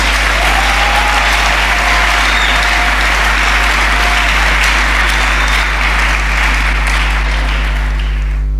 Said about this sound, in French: J'aimerais qu'on acclame la parole de Dieu.